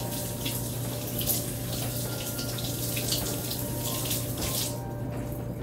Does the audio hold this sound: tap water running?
yes